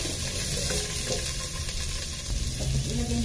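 Garlic, onion, ginger and long chili frying in a pan, a steady crackling sizzle with some watery hiss and light stirring clatter, close and continuous, no talk.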